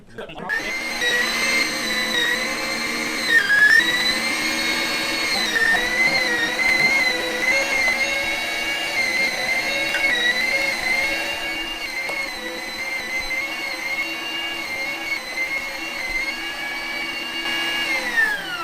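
An electric meat grinder grinding venison with bacon for burger meat gives a steady, loud motor whine with a humming drone that holds throughout, wavering slightly as meat feeds through.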